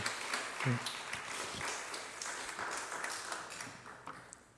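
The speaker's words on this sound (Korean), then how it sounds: "우리 간증해 주신 은수자매님 축복하면서 다시 한번 박수 해주면 감사하겠습니다" A church youth congregation at a Sunday service claps for a sister's testimony, a moderate, fairly quiet patter of hands with a few distinct nearby claps, steady and then thinning out.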